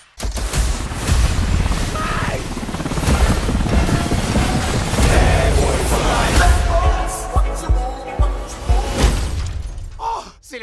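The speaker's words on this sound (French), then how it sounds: "Punaise, d'où ils sortent tous ces hélicos?" Helicopters fly through a loud, dense action-film trailer scene, their rotor noise blended with crashes, shattering debris and booms over a heavy music bed, with shouted voices in between.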